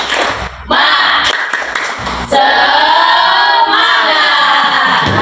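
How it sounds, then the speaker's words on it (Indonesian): A grade 8 class does a spirit clap together in a quick rhythmic pattern, loud and close, with cheering voices mixed in. "Oke, tepuk semangat."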